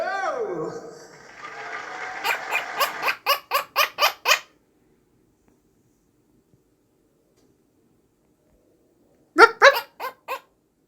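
A quaker parrot imitates a dog's bark, producing a quick burst of five or six sharp, close barks, then a pause and a second short run of barks; a person speaks softly before the barking.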